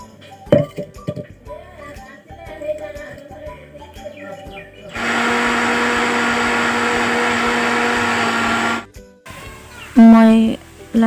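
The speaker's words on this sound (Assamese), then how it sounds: "এতিয়া মই পাতকেইটা মিক্সিত পিচি লৈ ল'ম।" A mixer grinder whirs loudly for about four seconds as it grinds chopped mustard green leaves, then cuts off, followed by a short second burst; chopping sounds and birds chirping come before it.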